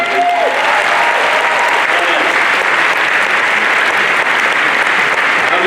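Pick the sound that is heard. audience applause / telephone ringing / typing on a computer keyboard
audience applause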